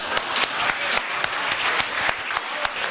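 Audience applause at a Hindi poetry recital, a steady dense patter of many hands clapping continuously at moderate volume with no voices.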